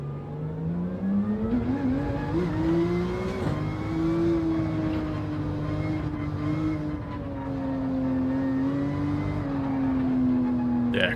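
Gr.3 race car engine at Catalunya in Gran Turismo 7, a loud steady drone with shifting pitch that holds throughout, rising and falling gently under sustained load without pause.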